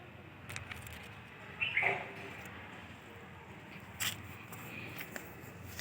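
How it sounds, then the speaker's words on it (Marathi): Birds call in a home garden with fruit trees and a pumpkin vine on a quiet morning, giving two brief, faint chirps against a soft, steady outdoor hush. "पक्ष्यांचे आवाज ते"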